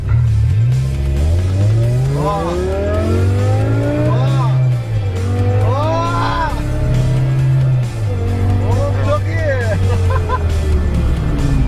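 A supercar in a video game accelerates through repeated rising engine revs and gear shifts, loud and continuous, while a voice speaks over it.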